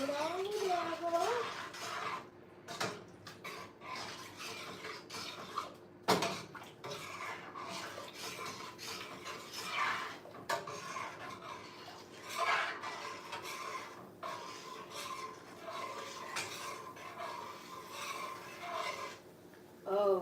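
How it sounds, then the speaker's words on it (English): Mild cheddar cheese being stirred into broccoli soup in a pot, with steady scraping and rubbing of a utensil against the pot that carries on throughout, under intermittent talk. "we're gonna do a handful of mild cheddar cheese. And we're just gonna stir it all together."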